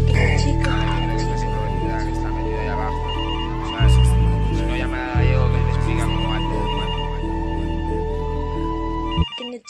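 A telephone rings repeatedly over a music track with a heavy beat, the ringtone pattern recurring through the mix.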